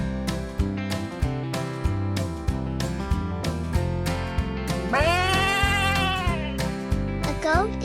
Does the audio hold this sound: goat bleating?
yes